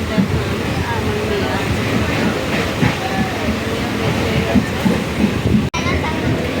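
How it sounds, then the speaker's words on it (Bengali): A train slowing as it pulls into Banpur station rumbles and clatters continuously, with steady wheel-on-rail noise and a sharp click near the end; people talk faintly under the din. "এই যে ট্রেনটা পুরো স্লো হয়ে গেছে"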